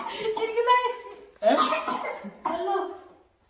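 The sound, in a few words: child coughing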